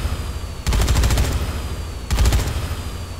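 Two bursts of rapid automatic gunfire in the video game Dead Rising 3, each roughly half a second long, loud and close over a steady background hum.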